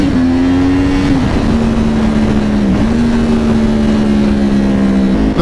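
A Yamaha R1 sport motorcycle pulling hard through first, second and third gear, its loud close engine holding a sustained high drone with brief dips at each shift.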